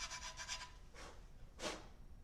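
A wooden guitar heel is sanded to fit the neck, three short rasping strokes close up and fairly quiet, with no voices.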